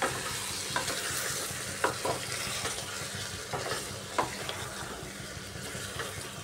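Ridge gourd sautéing in a pan for an egg curry, steady sizzling under repeated spatula scrapes and taps against the pan, close and fairly loud, no talking.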